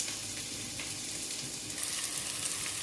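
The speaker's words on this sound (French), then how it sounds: "Sur feu moyen, je fais dorer. Les oignons bien dorés." Onions browning in a pan over medium heat for a plum chutney, a steady, close sizzle with faint crackles and no one talking.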